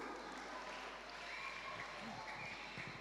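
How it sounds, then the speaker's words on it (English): Children at a diocesan Sunday school camp clap for themselves, a soft, distant patter of hands over a quiet background. "Clap for yourselves"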